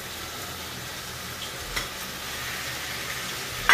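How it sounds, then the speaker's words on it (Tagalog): Leftover lechon kawali, already-fried pork, is sautéed in a pan, giving a steady even sizzle with faint stirring at close range and no voices. "konting gisa lang kasi luto naman na yung lechong kawali."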